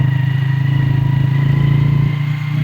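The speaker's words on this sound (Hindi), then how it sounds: "मैं सिर्फ एक अंदाजे के साथ बाइक लेके जा रहा हूँ" A motorcycle engine hums steadily and loud up close while riding through dense smog, a continuous even drone with no talking.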